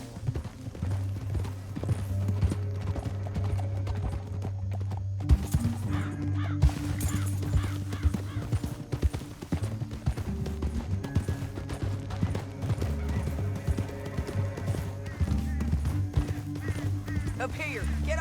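Several horses gallop with rapid, layered clip-clop hoofbeats in the Old West setting of Red Dead Redemption 2, steady and close throughout, with an occasional whinny, a brief break midway, and people talking over the action.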